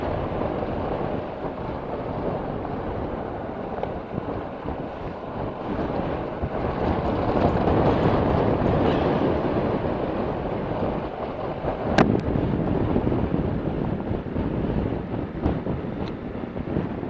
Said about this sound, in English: the worst part about riding in this type of weather is just the burn of the wind on your neck